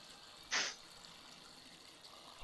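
A short gush of water pours over cannabis plants in the game Weed Farmer Simulator, a brief splash that fades into quiet background hum.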